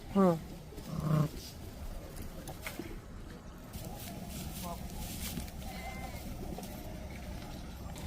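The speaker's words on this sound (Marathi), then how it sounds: "मेंढी थांबणार का थांबते की इथं ह्या कळपात थांबला" Sheep in a Dhangar shepherd's flock give two loud, close bleats at the start, then the flock murmurs faintly beneath people talking.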